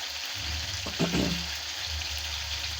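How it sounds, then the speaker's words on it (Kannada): Fish frying in hot oil in a pan, a steady hiss and crackle throughout with a brief louder sizzling burst near the middle, close and alone with no talk. "ಇವಾಗ ಫಿಶ್ಶು ಚೆನ್ನಾಗಿ ಎಣ್ಣೆಲಿ ಫ್ರೈ ಆಗಿದೆ."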